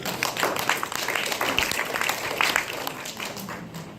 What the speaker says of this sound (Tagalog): Palapakan natin muna ang Panginoon.